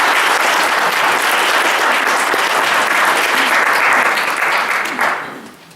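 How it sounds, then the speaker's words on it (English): Sustained loud applause from an audience at an evening candidate forum fills the room, a dense clatter of many hands clapping that fades out near the end. "we will hold the applause, okay?"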